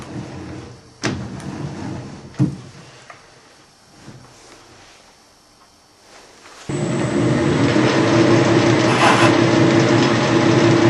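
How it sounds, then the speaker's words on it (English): A metal lathe being turned over by hand, its gears and mechanism giving a few sharp ratcheting clicks before a steady louder mechanical whir takes over, with no talking. "Turn the lathe up by hand."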